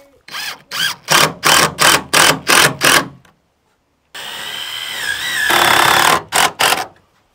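A power tool whines in a run of short, evenly spaced bursts as it cuts off screw tips, then gives one longer sustained cut and a few more quick bursts, loud and close.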